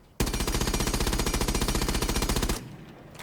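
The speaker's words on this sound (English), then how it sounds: "Now let's check out the FMG9." FMG9 submachine gun in Rainbow Six Siege emptying a magazine in one loud, fast, evenly spaced automatic burst of about two and a half seconds, then quiet.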